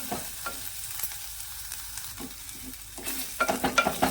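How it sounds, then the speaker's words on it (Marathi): Ground masala frying in oil in a pan for a Satara-style dry prawn and potato dish, a steady soft sizzle with scraping spoon strokes that grow louder and busier toward the end; no one speaks. "आता हा मसाला जास्त नाही भाजला ना तरी चालतो"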